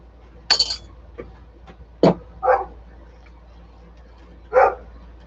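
A dog outside barks at RC quad vehicles it is chasing, several sharp barks spaced irregularly over a few seconds, with faint clicks between them and no talk.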